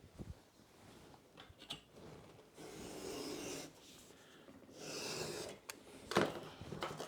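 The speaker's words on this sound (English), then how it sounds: "I'm just going to trim off this piece here" A blade trims through foam board in a quiet indoor setting, with soft rubbing, rasping strokes in several bursts, one sharper scrape near the end, all close up and with no talking.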